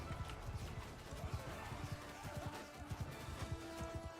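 Horse archers gallop across a Mount & Blade II: Bannerlord battlefield, with rapid, overlapping hoofbeats thudding steadily over a busy background of clashing and battle noise.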